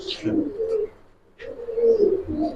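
Giribaj pigeons cooing in a loft, two bursts of low throaty coos separated by a brief pause, close and fairly loud, with a faint chirp above.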